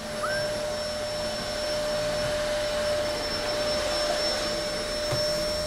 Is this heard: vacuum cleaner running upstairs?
yes